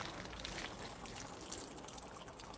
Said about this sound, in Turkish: Şöyle suyunu süzdürelim.